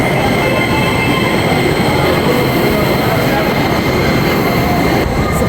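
Train at the busy Shinjuku railway station in Tokyo, a loud steady rumble of rolling carriages and wheels filling the whole stretch without pause, no talk.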